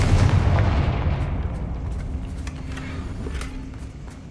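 A Confringo fire spell in Hogwarts Legacy bursts with a heavy, booming blast that rolls out and fades over several seconds, with faint crackles trailing after.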